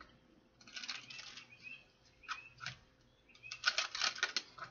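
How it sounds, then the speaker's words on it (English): Tarot cards are shuffled close by in several quick, papery riffles and flutters, pausing between bursts before a longer final riffle, soft and alone with no talking. "Let's get one more shuffle because that was choppy."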